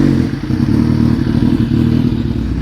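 A Kawasaki Z1000R fitted with an aftermarket exhaust cold-starts and settles into a loud, close, steady idle, its deep throbbing burble running throughout with light mechanical clatter.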